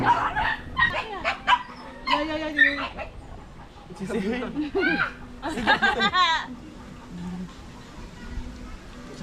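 An older dog barks in quick irregular bursts outdoors, close and fairly loud, with people talking around it.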